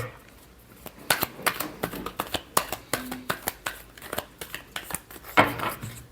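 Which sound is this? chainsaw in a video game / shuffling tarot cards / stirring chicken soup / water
shuffling tarot cards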